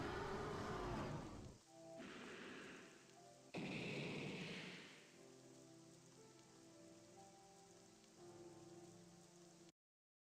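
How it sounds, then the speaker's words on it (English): Rain in a video game hisses as a dense, steady wash, with loud bursts in the opening seconds before settling into a softer continuous patter, faint overall with no voices. "They've got the fucking rain effects."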